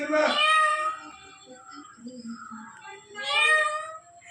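House cat meowing near a talking parrot at home, two clear drawn-out meows at the start and end with softer vocal sounds in between, close and fairly loud.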